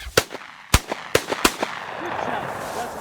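Shotgun blasts with number 8 bird shot fired at flushing chukar in an open field: several sharp, loud reports spaced irregularly over a couple of seconds, with hunters' voices afterward.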